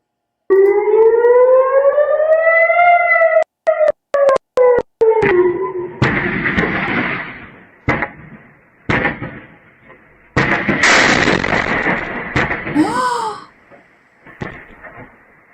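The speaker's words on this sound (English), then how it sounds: "this is a Hezbollah rocket hitting in Israel" A wailing air raid siren in Israel during a Hezbollah rocket attack, loud and rising and falling, then broken by several sharp blasts and booming impacts with rumbling aftermath.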